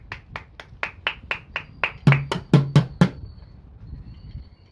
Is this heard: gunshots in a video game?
no